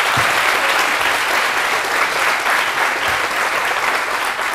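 Young people in a TV studio audience applaud, a loud, steady wash of clapping that holds evenly throughout with no talk over it.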